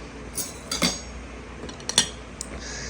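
A metal spoon is set down on a plate of rice, giving a few light, close clinks against the plate in a quiet room.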